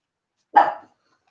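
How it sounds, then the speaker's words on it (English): A pet dog gives a single short, sharp bark, clear and close, with silence on either side. "He's given us a bit of a bark, which is usually when he knows it."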